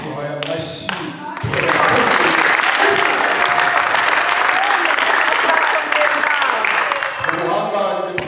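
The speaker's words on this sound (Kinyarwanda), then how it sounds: "Tuguhaye amashyi" Loud, sustained applause from a church congregation fills several seconds, rising sharply and holding steady before tapering off, with a voice speaking briefly before and after.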